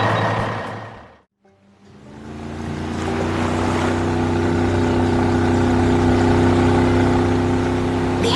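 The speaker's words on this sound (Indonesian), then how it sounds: "Lihatlah perahu merah itu mendekat dengan tenang" Animated red boat approaching calmly toward a dock, its motor droning steadily and swelling louder after a brief silent gap, with no voices.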